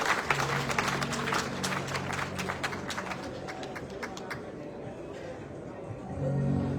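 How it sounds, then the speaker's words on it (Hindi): Applause from a crowd gathered at a religious welcoming ceremony for a revered swami, a dense continuous clatter of many hands that holds steady throughout, with low voices murmuring beneath it. "आप सब लोग जोरदार तालियां बजाकर अभिनंदन"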